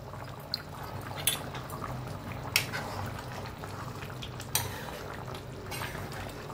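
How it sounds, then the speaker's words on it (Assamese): Pork curry boiling in a pot: a continuous low bubbling simmer with a few sharp clinks and splashes from stirring. "ৱাও, কি সুন্দৰ উতলি আছে চাওক"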